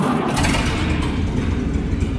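An American LaFrance fire engine with a Buda engine, just taken off the choke, fires up and settles into a loud, steady, rumbling run close by, with no talking.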